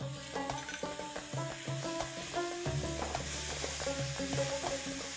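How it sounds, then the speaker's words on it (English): Finely chopped tomatoes tossed into a sizzling mutton masala for Hyderabadi tahari, giving a soft steady sizzle broken by repeated utensil taps and scrapes against the pot, with no talking. "now I'm going to add 3 medium tomatoes that I have finely chopped"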